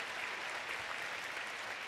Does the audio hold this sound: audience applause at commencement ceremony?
yes